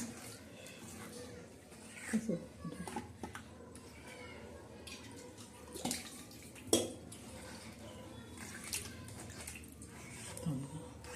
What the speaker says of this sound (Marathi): हे बा पाटा कसा धुतो आपण